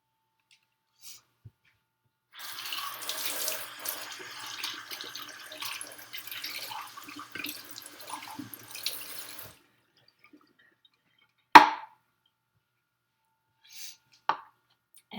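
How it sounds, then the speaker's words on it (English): A kitchen tap runs for about seven seconds as a measuring cup is rinsed out underneath it, a close, steady splashing hiss, followed by silence and a few sharp knocks as the cup is set down. "I'm going to rinse my measuring cup out really good."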